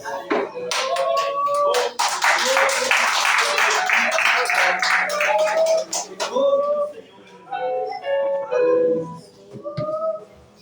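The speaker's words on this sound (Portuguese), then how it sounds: "Aplauda Jesus." Clapping from a church congregation, a broad burst of hands that swells then thins out, mixed with voices and sung or spoken tones on top.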